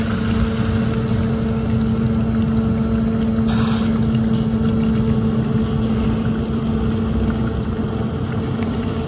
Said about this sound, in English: I know this pump is completely submersible. I hear it pumping into the bucket.